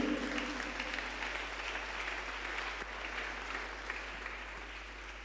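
Congregation applauding during a church service, steady sustained clapping from many hands throughout, fairly even and moderately distant with no voices standing out.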